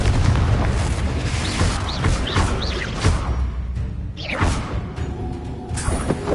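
Explosive spell blasts from the Confringo curse in Hogwarts Legacy, several heavy booming bursts in quick succession with rumbling low-end impacts, followed by a sharper crackling detonation near the end, loud and close.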